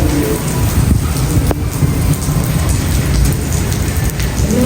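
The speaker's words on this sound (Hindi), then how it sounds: "मैं छत पर आ चुका हूँ, इतनी तेज़ बारिश है" Heavy rain pours down, heard from a rooftop in Hyderabad, Sindh. It is a loud, steady, close hiss of water striking surfaces, with a few sharper splashes and no speech.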